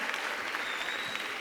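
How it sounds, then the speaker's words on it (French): Brief burst of audience applause at a school play at the Bibliotheca Alexandrina, dense steady clapping from a hall full of people, fairly quiet and even. "Donc on applaudit toute la présence"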